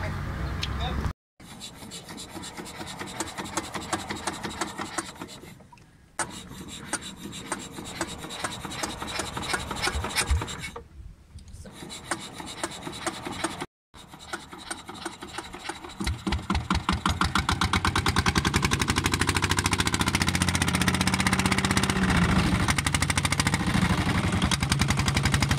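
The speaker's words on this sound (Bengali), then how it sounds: "সেজন্য 3বারের প্রচেষ্টায় আমাদের ইঞ্জিন স্টার্ট হতে সময় নিয়েছে।" A fishing boat engine on a river near Cox's Bazar, sluggish in the winter fog and damp, is cranked with rough rasping bursts that cut out between tries, then catches and settles into a steady, loud, close idle.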